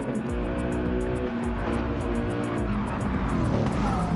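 A Lamborghini Murcielago race car in a Gr3 racing video game at Bathurst roars under a loud, steady engine note, sliding with faint tire squeal, no talking over it.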